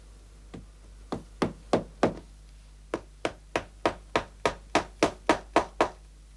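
A run of sharp knocks as a hammer taps pins into a packet of wood veneers to hold it together: three strikes, a short pause, then about a dozen more evenly paced blows, close and clear.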